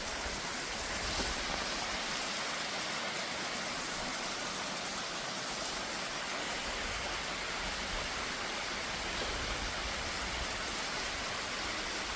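Geumgang waterfall in winter, partly iced over, roars as a steady, dense rush of falling water that holds unchanged and fairly close throughout.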